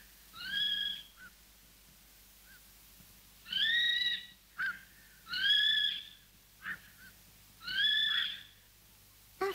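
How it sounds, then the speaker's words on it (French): A falcon calls out in an alpine meadow with grazing goats, giving several separate shrill, drawn-out cries at a moderate distance over a quiet background. "Regarde, Pierre, c'est un faucon."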